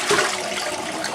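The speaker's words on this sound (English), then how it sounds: "So what I'm going to do is pour the water down the drain" Lye water pours down a drain, a loud, close, steady gushing and gurgling flow with no voices.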